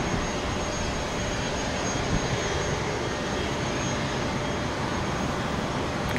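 A fixed-wing aircraft flies overhead near Tampa airport, a steady broad jet roar with a faint high whine that holds constant throughout, loud and close with no voices.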